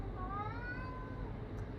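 A pet cat, one of the household's fur babies, meows in a long, drawn-out, wavering call that lasts most of two seconds, close and fairly loud, over a low background rumble.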